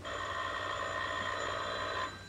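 An old telephone bell in a 1940s film rings steadily for about two seconds and then cuts off, with a faint hum behind it.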